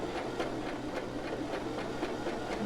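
Sewing machine running smoothly and quietly, a soft even mechanical hum with regular light stitching ticks at a steady rhythm.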